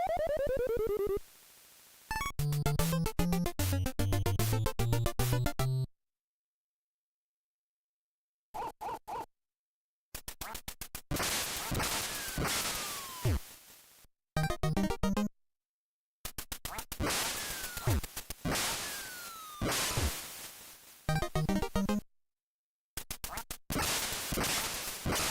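Ducks quacking in a light gun duck-hunting game played on a Sinden light gun setup, with bursts of game sound effects and jingles separated by stretches of silence, loud and close with no talk.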